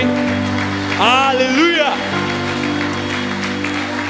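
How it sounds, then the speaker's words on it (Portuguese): A church congregation claps loudly and steadily in praise during a worship service, the applause running throughout while a voice calls out over it. "Dê a sua salva de palmas mais alta, mais forte, o melhor que você tem para Jesus"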